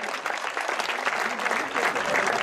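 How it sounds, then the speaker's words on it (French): Audience applause at a gift presentation ceremony at the Châtillon-sur-Seine town hall, a steady, dense clapping from a crowd sustained evenly throughout, fairly close and loud. "Voilà, ça peut s'applaudir."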